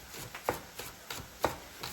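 A knife chops a scallion on a cutting board, with about seven distinct, evenly spaced close-up thuds and no talking.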